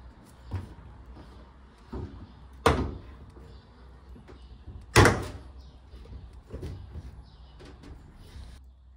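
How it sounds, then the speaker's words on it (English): The door of a Bosch Maxx 7 washing machine is being hung on its hinges, with a series of quiet clunks and scrapes and two sharper, louder knocks as the hooks catch, all close by and without talk. "Next, we install the door and reassemble the lower part."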